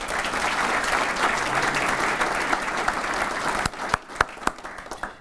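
Dense, sustained applause from a business audience congratulating a law firm on its expansion, tapering into a few scattered sharp claps at the end.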